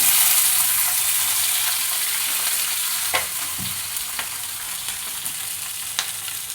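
Green chili chutney ingredients frying in a pan for North Karnataka style raw chutney, a steady soft sizzle with occasional stirring scrapes and clicks.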